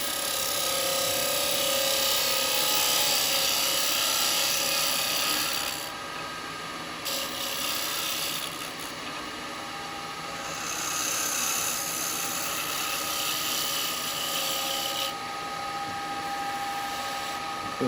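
Woodturning lathe with a tool cleaning up the bottom of a jewellery box made from mixed woods: a steady whirring, rasping cut with a constant hum, easing briefly in a few short pauses and then resuming, close and fairly loud.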